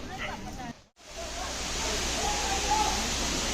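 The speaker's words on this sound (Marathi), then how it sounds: "मागच्या टायमाला आलेलं तेवढा एवढा धबधब्याचा वेग नव्हता, आज खूप फास्ट आहे" Fast-flowing waterfall near Khopoli in the rainy season, a dense continuous rushing hiss that swells slightly after a short dip, fairly loud and close, with no talk over it.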